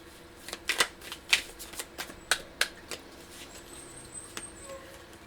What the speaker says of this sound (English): let's pull some journaling cards for you